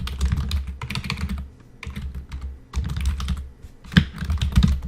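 Rapid typing on a computer keyboard, close and clear, in several bursts of clicking keys separated by short pauses, with no talking.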